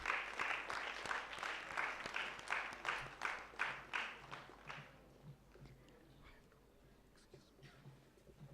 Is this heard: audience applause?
yes